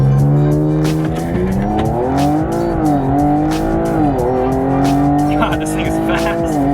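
A 2019 Audi RS5 pulls away hard under launch control, its engine note rising through steady harmonics while the tires squeal continuously. The sound is loud and close, and a voice is briefly heard over it.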